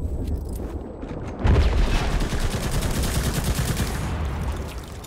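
Sustained machine-gun fire from the shooter game Enlisted, rapid bursts pouring in after a quieter opening, loud and close, with dense overlapping shots that keep going for several seconds.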